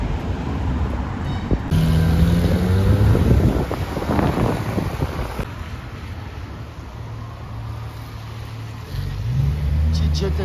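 A Porsche-style GT3 sports car in Paris traffic passes by with a rising, then fading engine roar amid wind buffeting and street noise, followed by low idling rumbles as a voice speaks.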